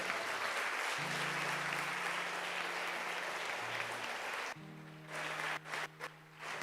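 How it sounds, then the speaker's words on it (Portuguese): Loud applause from a congregation at a Sunday evening church service, steady for several seconds, then thinning into scattered claps and quieter gaps. "Dê uma salva de palmas para o Senhor."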